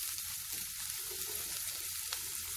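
Vegetables for chicken fried rice stir-fry in a pan, producing a constant, fairly quiet hiss of sizzling oil with faint, occasional stirring sounds and no voices.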